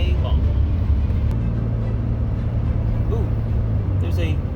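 A car drives along Route 50 in West Virginia, with a steady low road and engine rumble heard from inside the cabin and people talking over it throughout.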